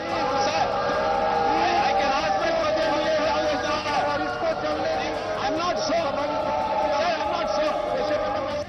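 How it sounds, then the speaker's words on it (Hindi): Uproar in parliament as opposition members shout over one another, a loud continuous roar of overlapping voices and chanting that holds without a break. "संसद में काम नहीं, सिर्फ शोर शराबा चल रहा है।"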